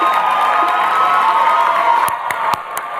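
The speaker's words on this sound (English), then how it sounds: "clap a little longer so I can put my robe back on" Large commencement crowd of Columbia graduates clapping, whooping and cheering in a continuous roar, with a few sharper individual claps and shouts standing out near the end.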